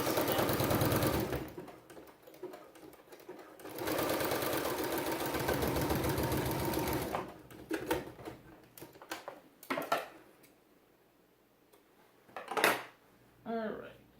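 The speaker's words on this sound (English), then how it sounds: "now it's time for me to sew the back of my sleeve" Sewing machine stitching a T-shirt sleeve, running in two long steady buzzing passes, then stopping for handling noises and short bursts.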